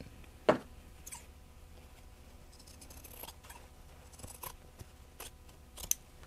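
Scissors cutting a strip of quilt fabric from a jelly roll, several crisp snips spread across the clip, close and fairly quiet with light handling rustle between cuts.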